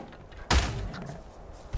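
A door slams shut in Ark Survival Evolved with one sharp, loud thud, followed by a fainter bump near the end.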